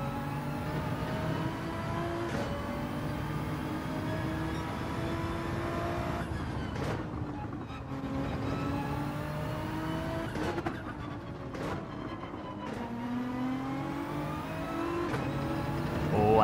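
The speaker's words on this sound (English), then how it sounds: "I hear a GTR." Nissan GT-R engine in Gran Turismo 7, racing at a steady loud drone, with rising revs broken by several quick dips as gears shift, heard alone without talk.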